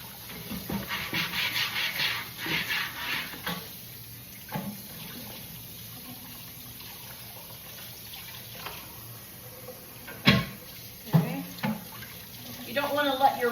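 Tap water runs and splashes in a kitchen sink while wooden kitchen items such as a board are rubbed clean, with uneven bursts of flow, scrubbing and a few knocks against the basin.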